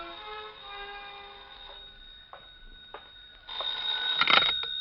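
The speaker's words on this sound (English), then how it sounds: "when the phone rang" A telephone rings as a radio drama sound effect: a bright, repeated electronic bell pattern in a quiet studio mix, with a louder burst of ringing near the end and no talking.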